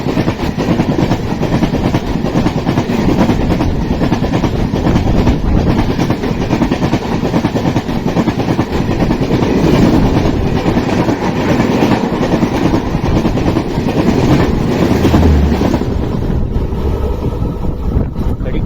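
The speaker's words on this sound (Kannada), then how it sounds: "ವೇಲಾಂಕಿನಿ Vasco da Gama super fast weekly express ಅದ" A Velankanni–Vasco da Gama superfast weekly express train rushes past at full speed, a loud, continuous roar of wheels and wagons with rapid rattling and wind buffeting for nearly twenty seconds, heard close up.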